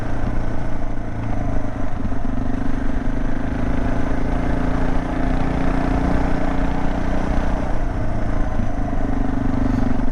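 A motorcycle riding on a gravel road, its engine rumbling loud and steady while loose stones crunch and clatter under the tires, a continuous dense roar throughout.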